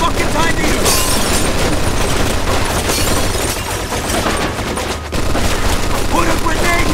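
Rapid machine-gun bursts and explosions fill a gunfight in the video game Mafia 2, loud and continuous throughout, with shouted voices mixed into the chaos.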